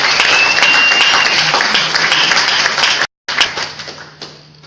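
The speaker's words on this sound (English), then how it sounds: "we need to give him a big round of applause" A big round of applause for the chief guest at a Kenyan prison award ceremony: dense, loud crowd clapping that fills the space, breaking off briefly and then trailing away.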